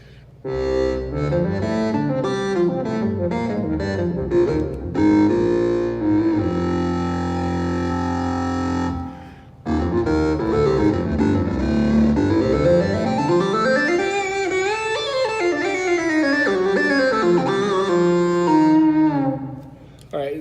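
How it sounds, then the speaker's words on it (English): Buzzy, gritty synthesizer tone built from stacked sawtooth waves with distortion, holding chords then sweeping and gliding through pitches, loud and unaccompanied, from DSI Evolver and Behringer Neutron synthesizers. "some saw waves stacked together with a little bit of distortion"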